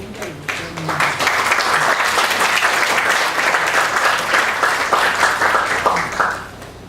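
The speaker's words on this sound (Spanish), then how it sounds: "Recibamos con cálido aplauso nuevamente" Audience applause welcoming a lecturer at an ICPNA 2018 teacher-training session on civic education, a steady burst of clapping from a room crowd that swells quickly, holds for about six seconds, then tapers off.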